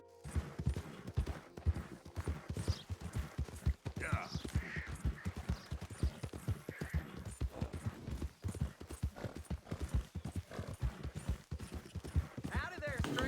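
In Red Dead Redemption 2, a horse's hooves clip-clop in a steady, continuous walking rhythm, close and clear. Voices talk intermittently over the hoofbeats.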